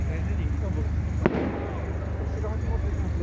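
A single firework bursts with a sharp, fairly distant bang at Kirishima Shrine on New Year's Day 2021, amid a background of crowd murmur and faint voices.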